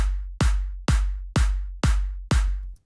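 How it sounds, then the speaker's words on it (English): Clap sample with a short fade-in and an aggressive transient, triggered six times in an even rhythm with a deep kick drum, each hit sharp and punchy and the sounds alone without voices. "for a clap which is quite aggressive on the transient"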